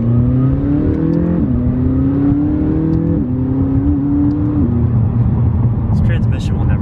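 A McLaren 570S accelerates hard from inside the cabin, the engine note climbing steadily and dropping sharply at each quick gear change, three shifts in a row, loud and close.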